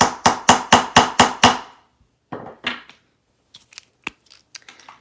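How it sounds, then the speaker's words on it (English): A hammer strikes a metal letter stamp on a steel block in a quick run of six or seven loud, evenly spaced blows. A few lighter, scattered taps and knocks follow close by. "You're going to take your hammer, hit it once, and then tilt it"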